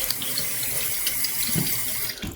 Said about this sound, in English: Let's get a little cold water on the face